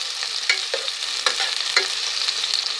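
Chopped onion fries in hot oil for zucchini curry, a steady bright sizzle with a few soft stirring scrapes at regular intervals, close and fairly quiet.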